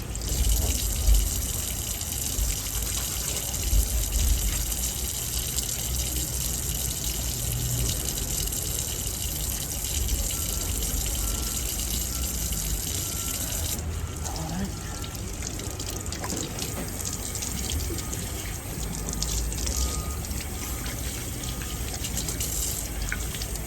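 Water running steadily from a tap at a small outdoor hand washing station near a junkyard, a continuous gushing splash with some background noise and a faint voice at times.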